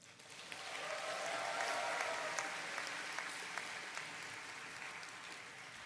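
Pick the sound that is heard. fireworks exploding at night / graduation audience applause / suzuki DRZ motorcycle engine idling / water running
graduation audience applause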